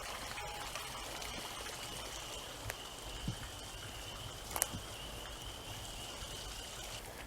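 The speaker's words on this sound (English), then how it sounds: "No, it's just a waterfall." Steady rushing water from a waterfall in a state forest fills the background, a soft continuous wash with a few faint clicks and taps, distant and fairly quiet.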